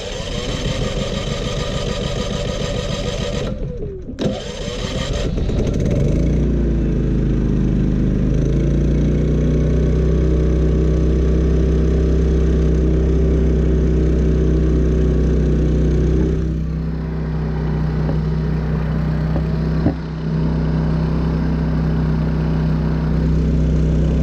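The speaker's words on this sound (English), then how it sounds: "We'll start it up." Champion 3400-watt dual fuel generator starting up, then running with a steady, loud mid-pitched engine drone and a slight dip partway through, with no voices.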